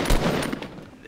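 Rapid bursts of automatic gunfire from a Fortnite Battle Royale match crackle loudly at first, then thin out into scattered shots and fading echoes over about a second.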